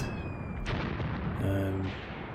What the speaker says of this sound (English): it could be pre-planned artillery, I suppose